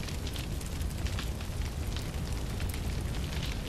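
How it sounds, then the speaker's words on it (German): A bush burning in Far Cry Primal gives a steady, loud crackling roar of fire, even and unbroken throughout, with no voices. "Der Busch brennt."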